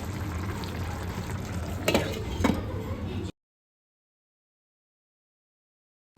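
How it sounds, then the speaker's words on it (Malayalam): Chicken curry in a pot on a Kerala home stove bubbles and sizzles with a steady, close hiss and a couple of brief stirring scrapes, then cuts to silence halfway through. "ചിക്കൻ കറി തിളച്ചുകൊണ്ടിരിക്കുകയാണ്"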